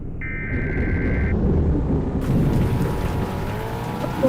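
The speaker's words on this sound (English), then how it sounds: "Thunderstorm." Steady rain and a low rumbling thunderstorm in a tornado video game, with a brief electronic tone at the start and a hissing downpour that grows fuller, continuous and close.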